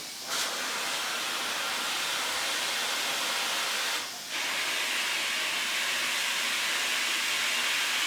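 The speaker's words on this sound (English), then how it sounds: "we'll put some more steam on these" Steam hisses steadily onto the knob bushings of an 1865 Forster & Andrews pipe organ during restoration, a loud, continuous broadband spray with one brief break partway through.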